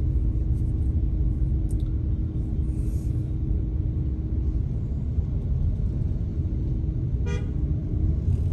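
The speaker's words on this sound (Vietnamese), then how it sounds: "Đằng sau mình cũng bóp còi của mình" Car horn toots in heavy traffic near the Thu Thiem tunnel, heard over a loud constant engine and road rumble, with a brief clear honk near the end and fainter beeps earlier.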